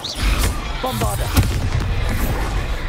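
Bombarda explosion spells in Hogwarts Legacy go off as loud booming bursts, several heavy thumps and crackling impacts in quick succession, with a short spoken incantation in between.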